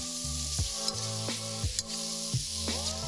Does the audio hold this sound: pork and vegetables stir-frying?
yes